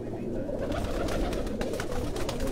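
Pigeons coo softly and steadily in a loft kept by a pigeon fancier in Quetta, overlapping murmurs under a constant wash of background noise and scattered clicks.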